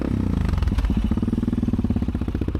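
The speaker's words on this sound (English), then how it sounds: "After eating, we got back on the bikes with full bellies" Motorcycles ride off on a New Zealand road trip, with a loud, close engine chugging in a fast, even pulse that rises slightly as the bikes pull away.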